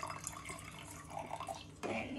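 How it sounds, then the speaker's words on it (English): Water trickles and splashes into a glass for a popcorn density experiment, faint and close, with a small burst of pouring near the end and people talking softly. "We need to add some water in this too,"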